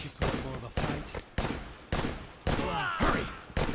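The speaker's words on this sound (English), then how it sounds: "Just gonna fire my gun until you get close enough" Gunfire in the video game Wanted: Dead comes as a rapid series of sharp, loud, close shots in regular bursts, each with a short decaying tail, and a voice briefly heard between them.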